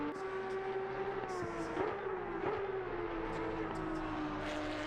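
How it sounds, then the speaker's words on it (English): Porsche Cup race cars in a sim racing game at Mount Panorama, a continuous engine drone with shifting pitch and faint overlapping passes, held at a moderate, steady level. "They sound really good, these cars."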